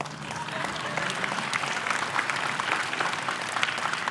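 Sustained burst of audience applause at a university inauguration ceremony, dense steady clapping from a large crowd filling a hall.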